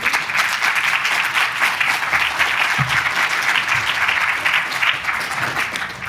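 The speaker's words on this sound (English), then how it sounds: "Give a big round of applause, please, for Nisha and for Nisha." A seated audience at a Creative Brain Week 2023 positive psychology session gives a sustained round of applause, dense and steady clapping that fills the room for several seconds with no talk over it.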